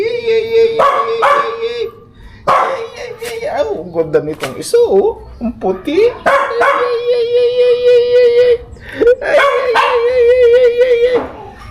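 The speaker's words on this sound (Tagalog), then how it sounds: "Ang cute ng mga tuta." Young puppies in a yard in Occidental Mindoro yip, bark and whimper in repeated high-pitched bursts close by, while someone talks over them between the calls.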